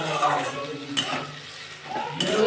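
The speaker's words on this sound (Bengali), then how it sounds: "এবার আমি টমেটো দিয়ে দেবো।" Tomatoes go into onions frying in a pan, giving a steady sizzle broken by a few sharp clanks of a utensil against the pan.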